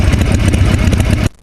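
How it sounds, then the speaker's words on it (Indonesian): An old, worn-out motorcycle engine runs close and loud with a rough, pulsing putter, then cuts off abruptly near the end. "Nah, itu suara motor bututnya."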